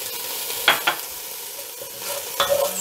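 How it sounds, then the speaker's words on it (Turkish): Chopped onion and two small-cut green peppers sizzle in a pan while being stirred, a steady frying hiss broken by a few scraping clacks of the spoon. "Soğan ve yeşil biberimizi beraber bir soteleyelim"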